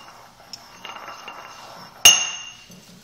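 A glass rod clinks against the side of a glass vessel while calamine lotion is mixed, giving soft stirring scrapes and one sharp ringing clink that decays briefly.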